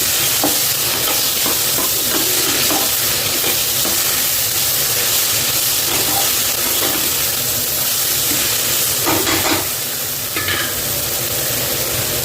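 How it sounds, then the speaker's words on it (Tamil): Vegetables and spices sauté in a pan for potato biryani, a steady loud sizzle and fry with scattered stirring scrapes that runs for several seconds with no talk. "அதையும் போட்டு கொஞ்சம் நேரம் வதக்கிக்கிறேன்"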